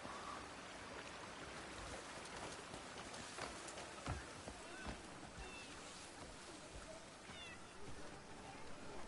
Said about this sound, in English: Looks like a lot of cats.